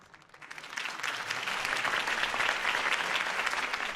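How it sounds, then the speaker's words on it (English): Applause from a crowd at a political campaign rally in the Batman Telltale Series video game, a steady wash of clapping that swells in the first second and then holds loud and dense. "could have heard that applause"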